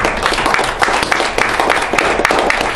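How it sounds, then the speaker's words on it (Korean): An audience at a youth academic conference breaks into applause, a dense, steady patter of many hands clapping at close range, lasting the whole stretch without pause. "네, 박수 한번 해주시다."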